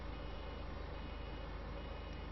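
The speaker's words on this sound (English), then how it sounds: "He's beeping away like mad, of course." Reversing beeps from a loaded farm vehicle in Farming Simulator 2015, a steady rapid pulsing alarm over a constant engine drone, loud and continuous throughout.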